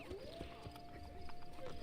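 Horse hooves clop in Assassin's Creed Brotherhood: a soft, quick rhythmic patter of hoofbeats under a steady game soundscape with a faint held tone, moderately quiet throughout.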